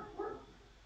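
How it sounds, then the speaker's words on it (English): A dog in The Sims 4 gives a single short, faint bark, brief and quiet. "That is once again my dog."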